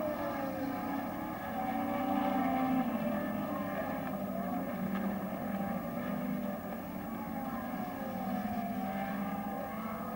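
Race cars from the 1968 Tasman Series at Surfers Paradise, including a Repco V8, scream past with a sustained high-revving engine drone that swells and fades slightly as the cars pass.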